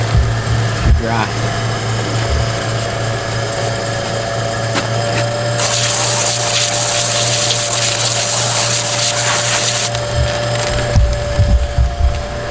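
Water rushes from a garden hose fed by an on-site well. It runs as a steady, fairly loud hiss for about four seconds in the middle, over a constant low pump-like hum, with knocks and handling noises around it.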